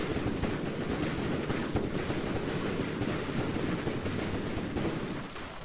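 Gatling turrets in From The Depths fire rapidly, a dense continuous rattle of overlapping shots with a heavy low rumble, steady and loud before tapering slightly at the end.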